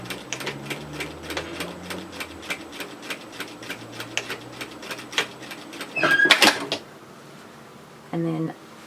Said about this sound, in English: we want to stitch this short edge 1 centimeter from the raw edge